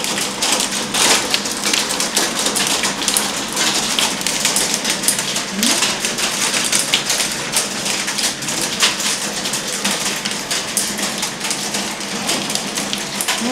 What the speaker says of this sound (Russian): Вот такой вот по спине пощелкает град такой.